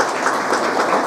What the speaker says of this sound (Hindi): इसके लिए भी तालियां एक बार।